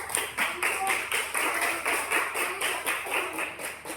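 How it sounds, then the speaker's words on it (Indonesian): Classroom applause for a group about to present its discussion results, with a steady burst of many hands clapping at an even rhythm through the whole stretch, fairly close and lively, and no talking over it. "Kita berikan aplaus yang paling meriah"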